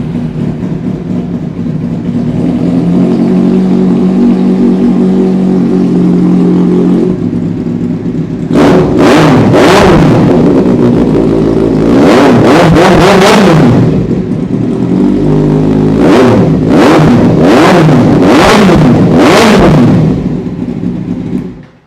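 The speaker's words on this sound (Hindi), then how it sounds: "लाजवाब आवाज़ है इस बाइक की, लाजवाब।" An inline-four Kawasaki sport bike fitted with a titanium race exhaust idles loudly, then is blipped in a series of sharp, close revs that rise and fall in quick bursts before settling back to idle.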